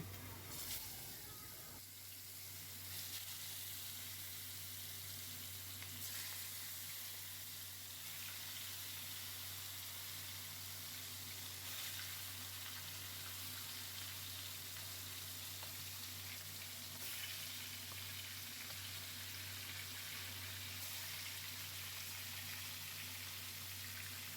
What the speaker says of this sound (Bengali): এবার আমি একে একে মাছগুলোকে ভেজে নেবো